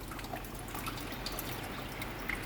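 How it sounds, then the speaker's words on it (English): Water trickles steadily from a homemade waterfall into a water hole inside a green tree python enclosure, a faint continuous splashing with scattered drips, heard close and alone. "we're going to fill this water hole up, and I'm going to see if this waterfall works"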